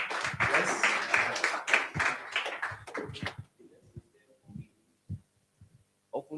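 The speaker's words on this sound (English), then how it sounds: "Let's clap." Audience applause at a life and leadership talk, a dense burst of clapping for about three seconds, then fading to a few scattered claps.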